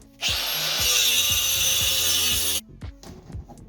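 An angle grinder cuts metal clamped in a vise, one loud steady grinding whine lasting about two seconds, then it stops and some light clanks and handling knocks follow, no talking.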